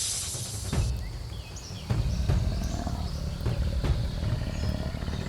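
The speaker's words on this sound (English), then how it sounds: "The lion, agitated, its instinct as the top predator made it roar" A lion gives low, rumbling roars in the savanna, rising over an outdoor background of faint bird calls at moderate distance.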